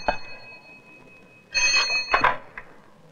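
An old telephone bell ringing in an Indian film scene, a faint opening ring followed by two loud bright bursts of ringing close by.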